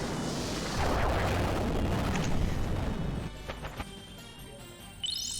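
A stun cannon fires in the video game Lunar Silver Star Harmony, a loud booming blast with crackling debris that fades after about three seconds into scattered clicks and a rising chime.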